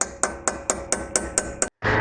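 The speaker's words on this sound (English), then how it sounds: "we're going to take a hammer and we're going to knock those out" Eight sharp metallic hammer blows strike a punch to drive out brake pad pins on a BMW M2 Competition, evenly spaced and ringing close up, followed by a brief silence and a scraping rustle.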